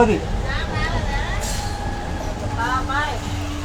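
A train rumbles past at Vemuru village near Tenali with a steady low-frequency roar, a brief hiss burst midway, and faint wheel squeal tones under distant chatter.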